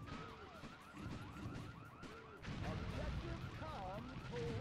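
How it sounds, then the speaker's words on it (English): Needle launcher firing in the PS2 game State of Emergency, a rapid stream of whistling, zipping shots with chaotic crowd noise and explosions throughout, dense and loud. "This is a needle launcher."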